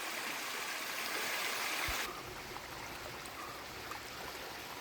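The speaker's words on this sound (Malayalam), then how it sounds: "നമ്മുടെ സ്ഥലത്തിൻ്റെ സെൻറ്ററിൽ കൂടെ തന്നെ ചെറിയൊരു തോടും ഉണ്ട്" A small stream flows steadily through a cardamom, nutmeg and pepper farm in Kerala, a constant watery rush, loud at first then slightly softer, with no voices.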